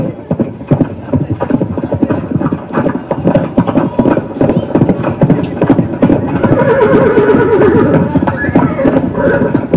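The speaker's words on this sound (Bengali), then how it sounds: "ঘোড়ার গাড়ি শব্দ মনে হচ্ছে কিংসফোর্টে ফিটন গাড়ি আসছে" Hooves of a horse-drawn phaeton carriage clop steadily in a rapid rhythm, loud and close, with a horse neighing and voices talking over the sound.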